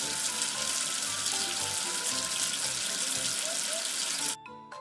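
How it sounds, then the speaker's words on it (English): Water runs steadily from a tap into a sink to rinse soap away, a dense continuous splashing hiss that stops abruptly near the end. "Wash away the soap with water."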